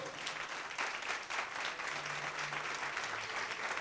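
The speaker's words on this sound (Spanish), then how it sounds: "¿Cuánto le dan un aplauso al Señor?" A church congregation applauds steadily throughout, a dense continuous clapping that fills the space, with a faint low tone running briefly underneath near the end.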